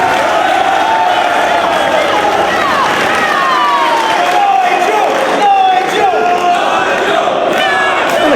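A wrestling crowd at a Ring of Honor event roars and chants continuously, with shouted voices rising and falling in a dense, loud wash of noise.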